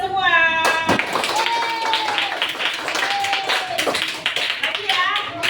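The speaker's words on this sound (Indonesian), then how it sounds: "Beri aplaus untuk kita semua." A classroom group claps together in a short burst of applause, with children's voices chattering and calling out over and after the clapping.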